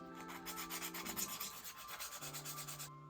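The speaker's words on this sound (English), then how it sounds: "I decided to tape it off first and then sand it down" Sandpaper is rubbed back and forth over a taped plastic K-pop light stick, producing a close, soft, rhythmic scratchy rasp in quick even strokes over three seconds.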